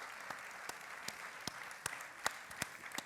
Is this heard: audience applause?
yes